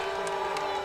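Crowd noise at a high school baseball playoff regional final, a steady wash of murmuring and shouting from the stands that holds across the moment, with a few brief claps or cheers rising from it.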